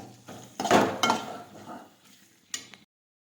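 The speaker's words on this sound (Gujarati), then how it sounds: "ચટણી નાખીશું હવે મિક્સ કરી દઈશું મસાલાને" Chutney and masala mixed in a pan for eggplant bharta: a short run of close spoon scrapes and clinks against the pan, fading briefly, then a final sharp clink before silence.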